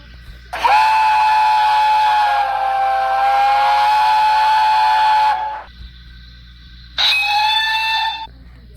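A steam engine whistle from a Thomas the Tank Engine recreation sounds loud and close. One long, steady blast of about five seconds is followed by a second, shorter blast.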